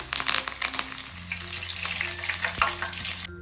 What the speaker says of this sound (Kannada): ಕರಿಬೇವು ಫ್ರೈ ಆಗಿದೆ.